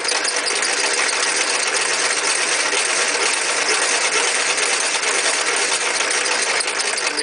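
A dual stator alternator being hand-cranked, producing a loud, steady whirring buzz with a fast mechanical rattle that holds constant throughout.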